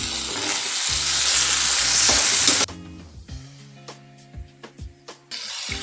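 Onions and tomatoes fry in a pan with a loud, close sizzle for the first few seconds, then quieter spells broken by a series of sharp stirring scrapes and clinks, before the sizzle surges again at the end.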